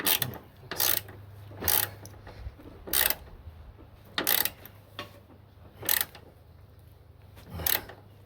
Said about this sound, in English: Go ahead and tighten these two.